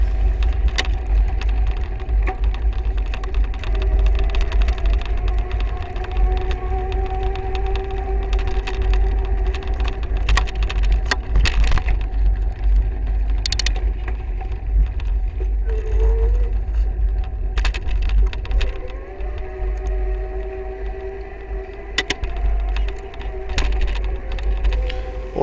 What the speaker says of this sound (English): Although you can hear the motor, I'm pedalling almost all the time